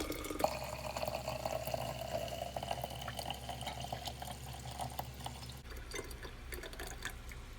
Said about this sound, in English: we're going to go ahead and pour this into the vessel we'll be making our coffee kombucha in